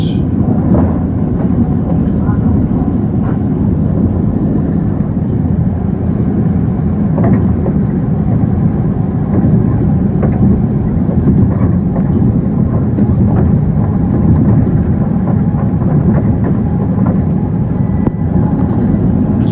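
A Long Island Rail Road M7 electric train runs westbound on track 2, a loud, steady, continuous rumble of wheels and motors that holds its level without a break for the whole stretch.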